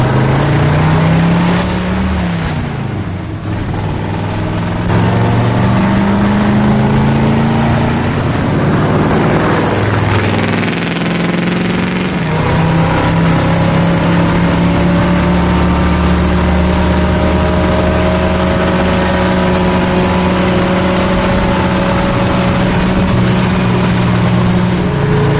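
Car engine idling steadily on a rebuilt Quadrajet carburetor with leaking headers, a loud continuous rumble that shifts pitch a couple of times, with no distinct backfire pops standing out.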